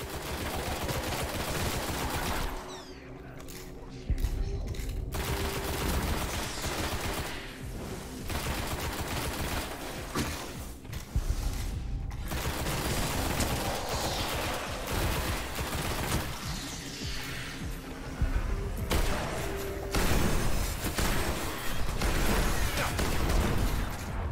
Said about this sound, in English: Very accurate shotgun, has some good range.